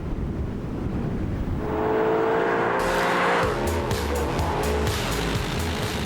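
An Audi R8 sports car's high-revving engine roars on a race track, the pitch climbing then shifting with gear changes, tires squealing as it passes loudly nearby.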